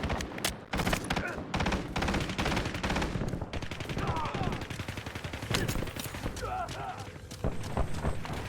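Rapid automatic gunfire bursts from a Warzone match on the Heaven's Hollow map, dense and continuous with overlapping shots and game effects, a voice speaking over the firefight.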